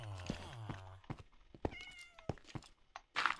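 A video game cat gives two clear meows at the start, then several short thumps and pings and a brief burst of noise follow.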